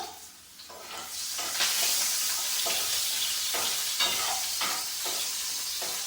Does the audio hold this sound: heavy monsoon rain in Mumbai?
no